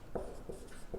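Chalk or a marker moves across a board during a math lecture, three faint, short scratchy strokes in a quiet room.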